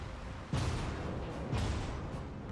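Naval guns firing high-explosive rounds in the World of Warships game, a Mikasa battleship in battle: two muffled booming salvos about a second apart over a low rumbling background, fairly faint and without speech.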